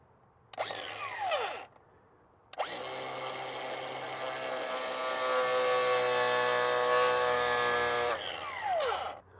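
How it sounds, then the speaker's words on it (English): Power grinder cutting near the intercooler of a Ford F250, a loud close whine in bursts: a short run, a pause, then a long steady grind with a brief final burst. "I might can fit this grinder in here if I'm careful not to hit anything else"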